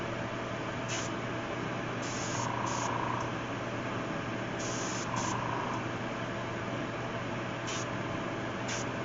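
Paint spray gun hissing steadily as it sprays paint through its nozzle, a continuous broad airy rush that stays even throughout, close by, with no talking.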